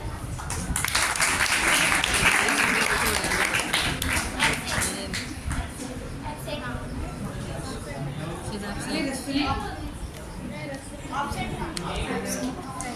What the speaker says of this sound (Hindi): आइए हम सब पुरखुलूस तालियां बजाकर इनका इस्तकबाल करें।